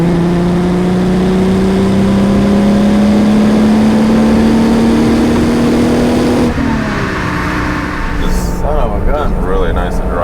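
An Italian fastback grand touring car accelerates hard, its engine note climbing steadily in a loud rising drone before a gear change drops the pitch, recorded close from inside the cabin.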